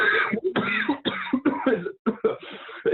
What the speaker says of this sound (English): starts coughing violently